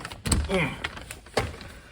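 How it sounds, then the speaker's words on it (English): A key works in the lock of a stuck door, giving two sharp clunks and rattles about a second apart, with a brief murmur of a voice between them, recorded close up. "I put the key in the lock,"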